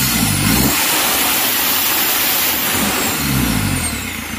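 Isuzu Trooper with a 4JX1 diesel engine revving hard after a fix for lag, a loud close roar that rises and falls through two throttle blips with no one talking.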